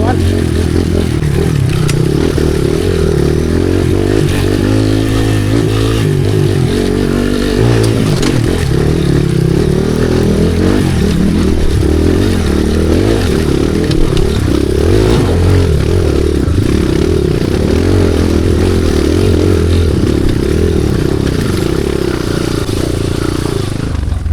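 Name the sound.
motorcycle engine running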